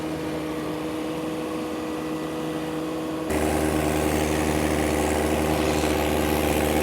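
A small tractor engine runs at a low idle while tilling, then abruptly revs up louder and rougher, straining at a higher pitch for the rest of the clip.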